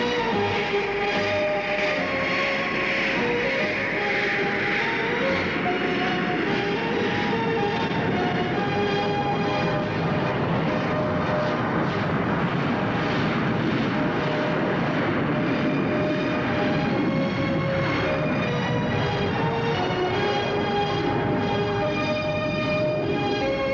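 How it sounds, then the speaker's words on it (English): Skyhawk jet aircraft taking off, a steady loud roaring whine of the jet engine with a sustained broadband rush, continuous and unbroken, with no voices. "we scramble the Skyhawk to give fire support"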